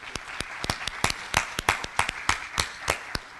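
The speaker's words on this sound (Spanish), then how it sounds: "tenemos que aplaudirle" An audience at a training session for intellectual property judges claps for a visiting speaker, a brisk run of distinct, close claps at an even rhythm, too few and too regular to be a full crowd.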